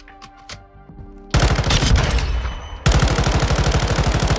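An M13C rifle fires in Modern Warfare 2, opening with a few separate shots and then breaking into long, loud, rapid full-auto bursts with a steady, even rhythm, with no voices over the fire.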